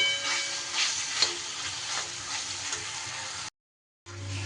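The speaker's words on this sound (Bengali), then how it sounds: "খুব সুন্দর করে মশলা আমার কষানো হয়ে গেছে আলুর সাথে" Spices and potatoes sauté in a pan for an egg dhoka curry, giving a steady close sizzle with scraping stirs, a brief cut to silence, then sizzling resumes.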